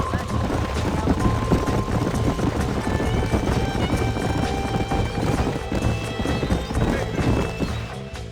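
Horse hooves gallop in a fast, steady clip-clop in the Red Dead Redemption video game, loud and continuous across the whole stretch, with a whinny and game voices over it.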